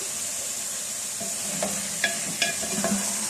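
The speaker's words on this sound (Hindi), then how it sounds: "जो सब्जियां हमारे पास हैं, मटर, गाजर, आलू, ये सारी सब्जियां इसमें डाल देंगे" Peas, carrots and potatoes tumble into a hot spiced pan for a winter vegetable sabzi, a steady sizzle broken by several scraping stirs of a spoon, with no voice.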